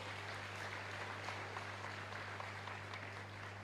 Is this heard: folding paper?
no